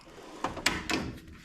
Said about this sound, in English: Here's my little junk drawer where all my little miscellaneous tools are.